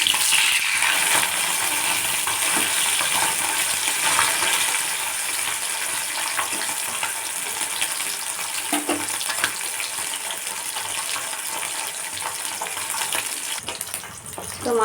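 Small fish, just flipped, frying in hot oil in a pan for a mustard fish curry, giving a steady dense sizzle with faint crackles that holds close and loud throughout.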